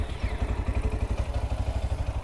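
A KTM RS3 250 motorcycle with about 11,000 on the clock idles close by, its single engine throbbing in a quick, steady low pulse with light mechanical clatter.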